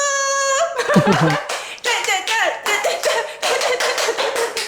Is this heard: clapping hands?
yes